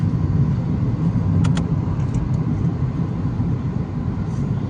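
Steady road traffic rumble from inside a moving vehicle on the way to Gurgaon from Delhi, a continuous low engine and tyre drone with a few faint higher tones passing briefly.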